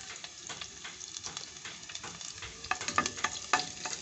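Onions being stirred and fried in a pan, a close steady sizzle broken by scraping stirs that grow busier and louder near the end, without talking.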